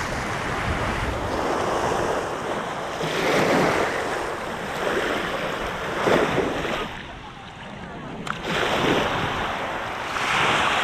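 Waves wash in and out on Kalamaki Beach on Zakynthos, Greece, in loud rolling surges a few seconds apart, with wind buffeting the microphone and no speech.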